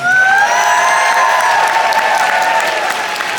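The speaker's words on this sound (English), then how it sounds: "Let's give one huge round of applause for the handlers in the back." A convention audience at a fursuit dance competition applauds the backstage handlers, dense loud clapping with some cheering that fills the whole stretch, while a voice carries faintly over it.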